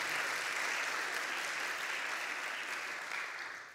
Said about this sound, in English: let's give all these research and scholarly projects a round of applause